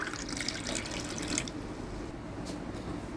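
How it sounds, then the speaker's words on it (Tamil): Water poured from a tap into leftover pomegranate juice pulp, a steady splashing rush that drops away partway through, leaving a quieter liquid trickle with faint drips. "இது கூட கொஞ்சம் தண்ணி ஊற்றிக்குவோம்."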